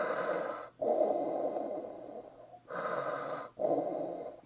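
Darth Vader's mechanical respirator breathing from Star Wars: three slow, deep, hissing breath cycles separated by short pauses, close and steady with no talk.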